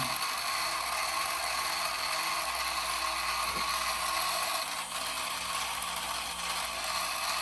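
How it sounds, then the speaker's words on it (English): Toy Mars jeep motor whirring steadily as it drives the rear wheels and spins the antenna, a constant close mechanical buzz with gear chatter, heard alone. "What you have is the rear wheel drive, the antenna rotating."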